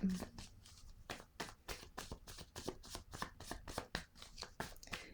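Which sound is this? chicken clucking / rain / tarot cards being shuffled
tarot cards being shuffled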